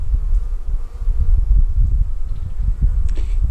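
Honey bees buzzing steadily and close during a hive inspection in a farm yard apiary, a dense continuous drone with no talk over it.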